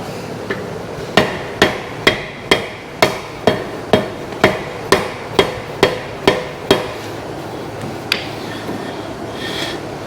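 Sharp metal hammer blows strike a brake on a square-body truck during a brake job. About fourteen evenly spaced, loud, close hits ring out over roughly six seconds, followed by quieter clinks and rattling.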